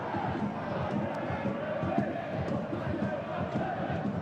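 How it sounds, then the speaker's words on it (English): A crowd at Shamrock Park hums and shouts through an Irish Premiership football match between Portadown and Linfield, a continuous murmur of fans with scattered calls. "Decent crowd in Shamrock Park for this game."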